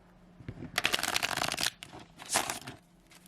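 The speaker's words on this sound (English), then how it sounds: "it riffle shuffles beautifully" Tarot cards riffle-shuffled up close in two bursts, a long crisp flutter followed by a shorter one, with no talking.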